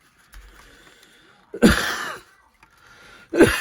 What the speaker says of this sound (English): I'll get rid of this cough at long last.